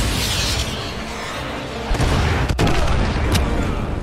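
AGM missile strike explosions in Call of Duty Modern Warfare 2: rumbling booms and blasts over a dense roar of battle noise, with a sharp impact about halfway through.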